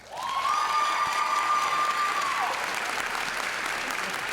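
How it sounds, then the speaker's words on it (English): An audience at a School of Nursing pinning ceremony bursts into sustained applause, with a sharp whistle cutting through during the first couple of seconds before the clapping carries on alone. "can we hear another round of applause for everyone who received an award today"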